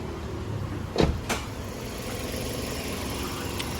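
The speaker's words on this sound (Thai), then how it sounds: "เสียงฝากระโปรงมันดังแป้งมากเกิน" A single sharp metallic slam of a Toyota Vios 1.5E hood shutting, followed by a faint rattle, over a steady low engine idle.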